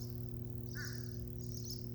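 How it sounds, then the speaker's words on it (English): Crows squabble outdoors, giving a couple of faint, brief caws far off over a steady low hum. "The birds are fighting over here. They got a lot to say right now."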